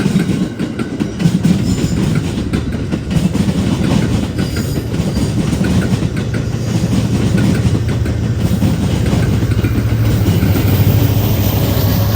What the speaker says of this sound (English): We're in Bensonville to catch weekend train 2708 heading east past Tower B17.